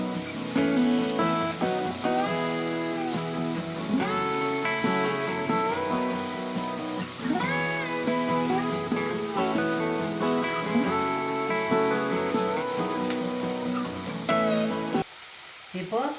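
Garlic and salt sautéing in a hot pan of oil for a traditional brinjal stir fry, a continuous soft sizzle under loud background music.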